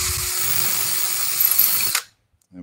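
A hand-held power drill bores into wood held in a V block, a steady close whine lasting about two seconds before it stops abruptly, followed by quiet.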